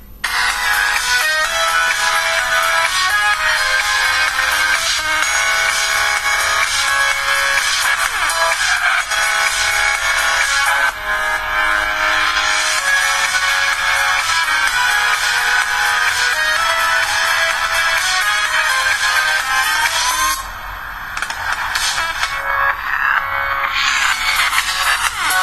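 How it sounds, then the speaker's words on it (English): A Star W92 phone, a Lenovo S960 clone, plays a ringtone through its built-in speaker, a continuous loud melodic tune with a thin, bright tone that briefly dips near the end before resuming. "Sound is correct, not as powerful as other phones, but it does the job."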